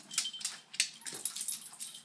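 Dogs chew carrots being fed to them in a home kitchen, with crisp, irregular crunching bites that sound close and moderately loud, with no talking.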